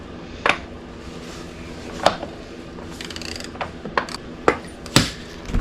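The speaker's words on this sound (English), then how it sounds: "I'm getting ready to torque down the rear axle" Torque wrench tightening the rear axle of a Husqvarna TC250 motorcycle, a few sharp metallic clicks and clacks spaced irregularly, close up, with no talk.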